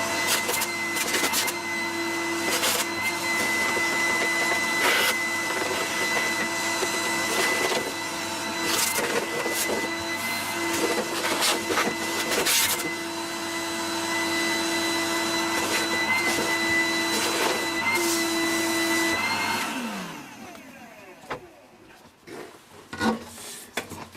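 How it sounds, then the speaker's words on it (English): A vacuum cleaner fitted with a vacuuming brush drones loud and continuous in a workshop, with scraping knocks as the brush moves, then switches off and winds down near the end, leaving scattered clunks. "I'm going to use the vacuuming brush and we'll see what we can do here."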